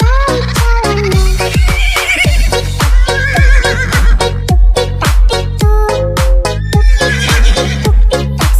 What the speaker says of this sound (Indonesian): Tuk-tik-tak suara sepatu kuda.